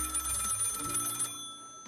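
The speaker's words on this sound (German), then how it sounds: "Telefon klingelt." Telephone ringing in the Lil Guardsman video game, a bright electronic bell trilling steadily for over a second, then cutting off to near silence with a faint tail at the end.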